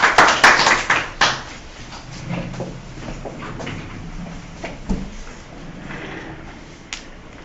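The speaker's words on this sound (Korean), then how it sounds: "예, 박수로 환영해 주십시오." A small audience at a group workshop claps to welcome a presenter, a short close burst of applause that dies out after about a second, followed by quiet room noise and a few faint knocks.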